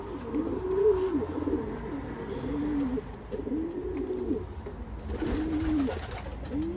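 Racing pigeons coo steadily inside a loft, several low rolling calls overlapping at close range over a soft background hum.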